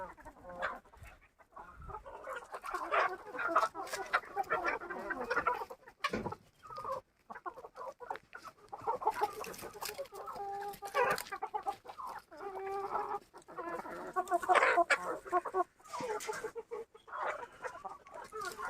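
Free-range village hens on a small farm shared with goats, including a broody hen, cluck repeatedly at close range in uneven, overlapping bursts throughout, with no talking.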